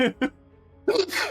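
A couple of quick sneezes, close and sharp, separated by a quiet pause, followed by a louder burst of breathy sound.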